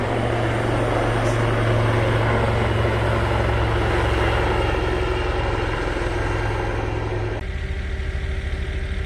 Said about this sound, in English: Sometimes we get those big military helicopters coming over.